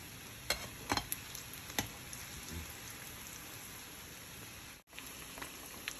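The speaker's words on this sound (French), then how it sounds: "Donc voilà les beignets, vous les laissez frire, dorer, comme ça." Faint, steady sizzle of sweet potato and carrot fritters frying in oil, a soft continuous crackle with a few sharp pops early on, quiet and close.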